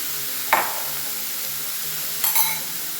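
Chopped beans and carrots hit a pan of sautéed onions with two short, close bursts of frying sizzle and stirring, separated by a soft steady hiss, and no voices.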